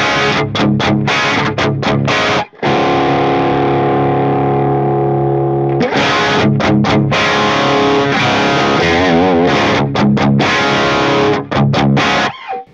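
Marek VII guitar amplifier playing a heavily distorted tone, loud chugging chords and sustained notes broken by sharp stops and short gaps, alone with no talk.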